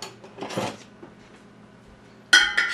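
A spoon scrapes and clatters in a pot of onions, sweet potatoes, carrots and parsnips, making two short bursts of stirring noise with a quiet pause between them.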